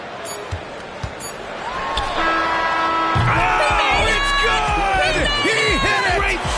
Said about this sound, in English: Listen to this crowd right now.